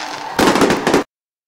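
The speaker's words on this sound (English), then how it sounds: "And the fireworks show is underway." Fireworks show at a high school football game, heard as one sharp, loud burst of crackling bangs that lasts under a second and cuts off abruptly.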